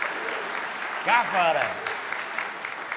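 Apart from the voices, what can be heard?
audience applause at ASCAP event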